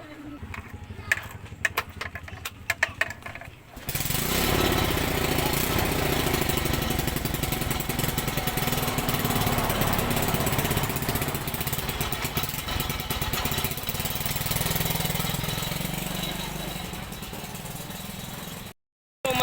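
A motorcycle engine runs steadily and close, its rough, continuous drone holding for many seconds after some brief clattering handling noises, then cutting off abruptly.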